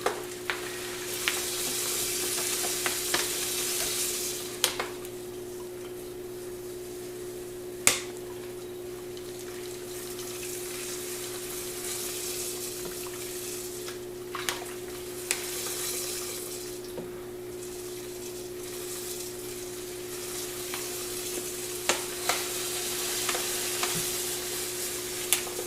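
Hot water poured a little at a time into an all-grain mash for a one-gallon home-brewed IPA, a continuous splashing hiss with occasional clinks, moderately close and steady throughout.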